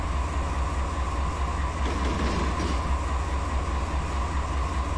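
A 15,000 ton freight train runs in Run 8 Train Simulator, giving a loud, continuous rumble with a steady low drone and a faint wheel hiss throughout.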